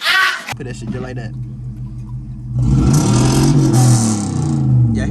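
A tuned 5.7 Hemi car engine idles with a low rumble, then revs up into a louder, rising roar that swells and falls back over a few seconds; a person speaks briefly at the start.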